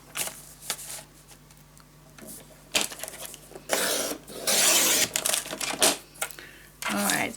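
Paper for a mini album is cut on a trimmer, with clicks and taps followed by several loud sliding, rasping cuts in bursts, close by.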